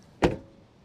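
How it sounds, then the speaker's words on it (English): A car door on a 2023 Toyota Prius swings shut with one sharp, solid thump and a short ringing tail, heard close up and alone. "Door close noise."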